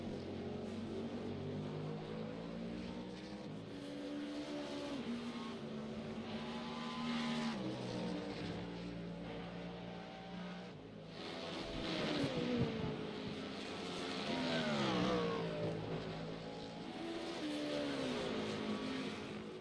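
A powerful Cadillac hypercar in the iRacing sim races down the straights at Silverstone, its engine a loud, continuous roar that rises and falls in pitch through gear changes and revs over the whole stretch.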